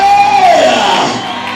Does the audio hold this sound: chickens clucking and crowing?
no